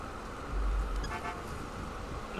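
A car in a parking lot gives a single short horn chirp as it unlocks, loud and close against steady outdoor background noise.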